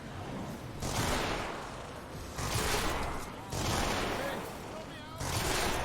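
A weapon firing in Fortnite Save the World, a dense, continuous wash of rapid gunfire in repeated bursts of a few seconds each, loud and close with brief whooshing effects between volleys.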